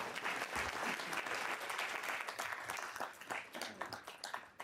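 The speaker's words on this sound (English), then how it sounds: "You can applaud for that." Audience applause fills a town board swearing-in ceremony right after a prayer, steady and sustained for several seconds from a crowd in the room.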